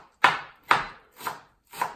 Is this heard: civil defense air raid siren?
no